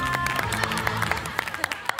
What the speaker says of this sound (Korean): 다시 한번 불의 명곡 박수를 드립니다